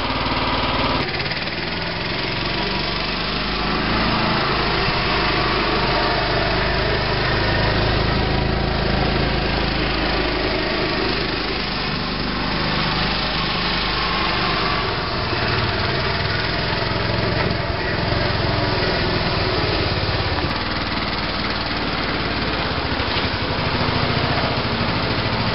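Small engine of an off-road lawn mower, smoking slightly, running and idling: a loud, continuous, buzzy drone that holds steady for the whole stretch with slight wavering, no voices over it.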